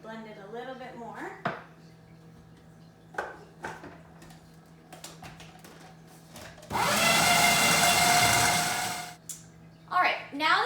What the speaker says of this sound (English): Blend it a little bit more.